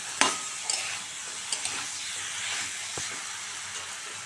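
Cabbage and hilsa fish head frying in a pan give a soft hissing sizzle, punctuated by a few sharp clinks and scrapes from a stirring utensil, close and fairly quiet with no voices.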